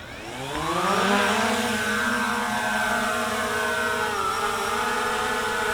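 A camera drone lifts off and hovers, its rotors spinning up into a rising whine that levels off into a steady, loud, multi-toned hum, close by and with no talking.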